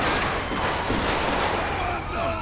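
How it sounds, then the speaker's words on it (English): Rapid bursts of gunfire from a police shootout in the GTA 5 police mod game, a loud dense fusillade of overlapping shots filling the whole stretch without pause. "She just shot an officer."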